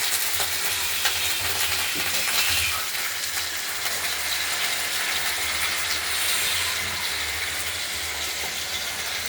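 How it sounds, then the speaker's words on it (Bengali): Potatoes lightly frying in oil in a pan, a dense steady hiss and sizzle with faint occasional stirring, close and continuous throughout, no speech. "এবার আলুগুলোকে আমরা একটু ভেজে নেব হালকা করে"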